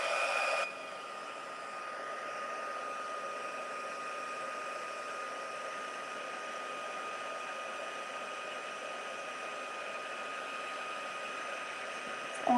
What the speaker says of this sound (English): And then we'll just come in with our heat tool and just heat that up.